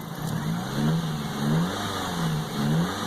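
A car's engine is running while its throttle is blipped during a low-budget horsepower modification. The revs rise and fall about four times at a steady pace, with a constant hum underneath and no talking.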